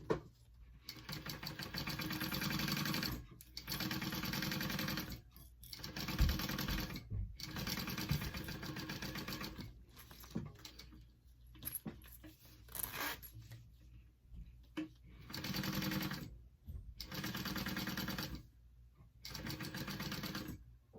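A sewing machine bastes a zipper onto the exterior of a mini backpack. It runs in repeated bursts of fast mechanical stitching, separated by short pauses, close and clear.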